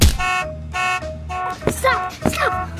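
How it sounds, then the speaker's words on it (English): Cartoon alarm clock ringing in repeated harmonic buzzing bursts, each with a short gap between, then cut off while a character shouts over it. "Why won't my alarm clock stop?"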